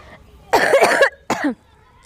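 Two harsh coughs in quick succession, close and loud, the first longer and rasping, the second short, with quiet between.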